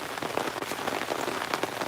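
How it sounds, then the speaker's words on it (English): Steady rain pattering on a surface during a thunderstorm, a dense continuous hiss of drops with no thunder claps standing out, fairly quiet and even throughout. "It's thunderstorming here"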